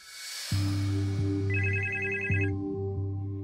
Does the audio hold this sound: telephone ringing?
yes